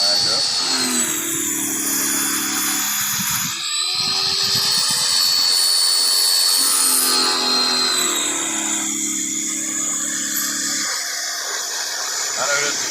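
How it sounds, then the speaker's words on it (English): A pressure washer runs in a continuous, loud, steady whine that shifts in pitch as it works, with someone talking over it throughout. "now the pressure washer is going to act up."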